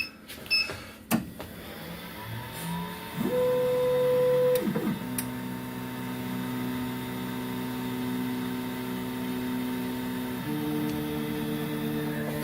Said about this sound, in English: The gantry is moving.